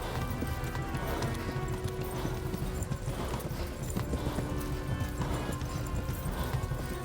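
Horse galloping flat out in Kingdom Come: Deliverance, with rapid, steady hoofbeats pounding continuously from start to finish at a close, even volume.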